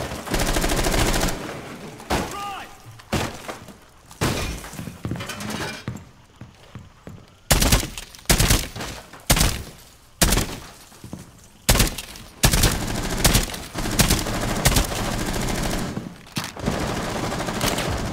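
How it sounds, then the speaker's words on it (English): Gunfire in a Rainbow Six Siege house hostage team deathmatch: repeated sharp gunshots and bursts, some rapid automatic strings and scattered single cracks, loud and close with brief gaps between volleys. "I heard those gunshots, I knew where they were."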